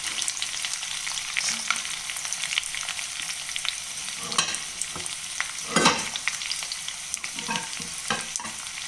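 Cashews and almonds fry and sizzle in a pan with chillies as rava upma is prepared, a continuous loud hiss broken by a few sharp scraping stirs, with no talking.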